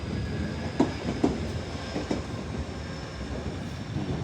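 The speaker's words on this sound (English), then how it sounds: "There's another one of those anime trains about to go by." A train rolls past close by, its wheels clacking rhythmically over rail joints with a few sharp clicks, steady rumble underneath.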